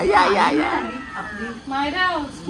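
A cat meows and yowls a few times indoors in a house, close by and fairly loud, while a person talks over it.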